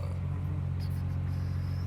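A 1997 Dodge Ram pickup's Cummins diesel engine idles on a cold Texas day, giving a steady, close, low rumble with an even hum that holds throughout and no voices.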